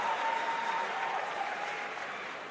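A Chapmanville crowd at a 2014 WVSSAC AA quarterfinal high school basketball game against Bluefield roars and applauds after a 3-pointer, a dense, loud wash of cheering that holds steady and fades slightly toward the end.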